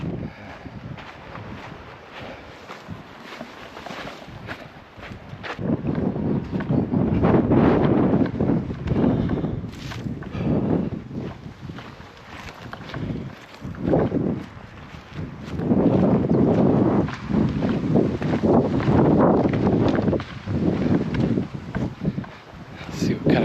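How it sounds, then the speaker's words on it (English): Strong wind buffets the microphone on a beach in Lagos, Portugal, roaring in loud, low gusts that rise and fall throughout, with occasional talk underneath. "It's so windy, it's chilly."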